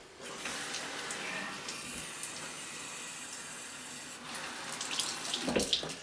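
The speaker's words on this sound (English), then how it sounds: "I fill up my bong about halfway with super hot water" Hot water runs from a faucet into a glass bong that holds cleaner, filling it about halfway with a steady close splashing stream that grows louder and more gurgling toward the end.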